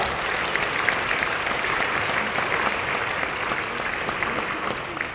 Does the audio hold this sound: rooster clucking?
no